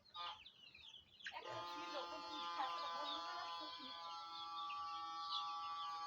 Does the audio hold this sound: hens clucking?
yes